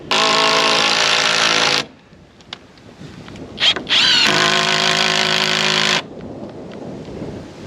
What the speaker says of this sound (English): Okay, so for now, I'm just screwing these in